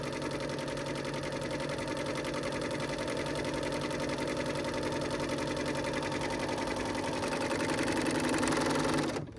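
A BERNINA L 850 overlocker stitches rows of flatlock seams with a steady, fast mechanical whir that runs without a break for several seconds before stopping.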